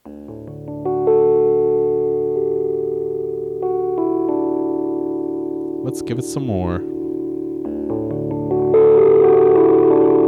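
Sustained piano chords pushed through heavy overdrive, buzzing and gritty, with a short spoken remark partway through and a louder distorted chord at the end.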